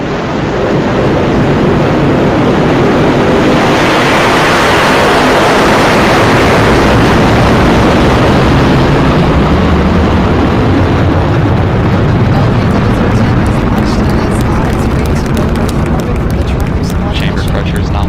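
Astra Rocket 3.3 lifts off with a loud, continuous engine roar, a broad rumbling wall of noise that holds steady throughout while a voice talks over it.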